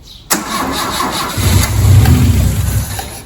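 A 1960s Lancia Flavia engine, unrun for 40 years, cranks with a sharp click, then catches and rumbles into a rough, throaty idle that swells slightly louder.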